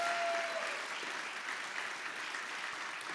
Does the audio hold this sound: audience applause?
yes